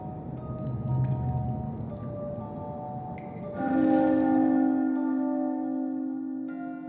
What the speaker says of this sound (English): somber bells ring for the liars and their false king